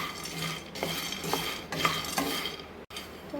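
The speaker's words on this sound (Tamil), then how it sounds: "பொட்டுக்கடலை எடுத்துகிட்ட பிறகு இதை லைட்டாக வதக்கலாம்" Fried gram (pottukadalai) stirred lightly in a hot pan, with steady close scraping and rustling of the dry grains against the metal and soft spoon knocks, without talk.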